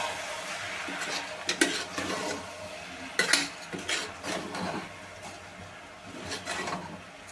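A spoon stirs a yogurt masala mix in a pot while it cooks for bisi bele bath, giving soft scraping and occasional clinks over a faint sizzle, close and fairly quiet.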